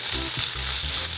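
Bacon, onion and thawed shrimp sizzling briefly in a pan, a short close burst of steady frying hiss with faint low rumbles underneath.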